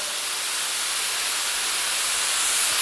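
A cheap paint spray gun sprays continuously, giving a steady, bright hiss of air and paint mist that swells slightly louder toward the end, heard alone.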